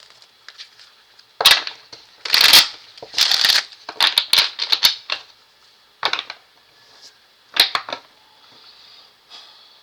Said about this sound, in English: Like, one more shuffle.